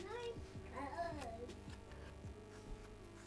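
Young child at play in a room during school holiday, babbling and making sing-song vocal sounds over a low steady hum, with occasional small knocks; the voice is faint and somewhat distant.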